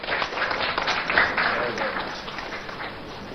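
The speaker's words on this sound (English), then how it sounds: "and a round of applause for him" An audience at an NDC press conference applauds briefly, a moderately loud burst of mixed clapping that swells and then gradually thins out.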